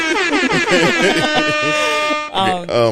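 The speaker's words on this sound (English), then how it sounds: "I gotta have that air horn more accessible." A loud, steady air horn blast holds for about two seconds, with voices talking over it and brief shouts after it cuts off.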